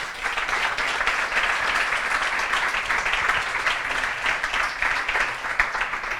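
Steady applause from an audience at the close of a talk at a game development conference, moderately loud and continuous without speech.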